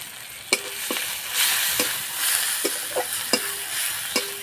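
Ground turmeric, cumin and chili powder sizzle steadily in hot oil in a pan, with a constant frying hiss broken by several sharp clicks and scrapes of stirring.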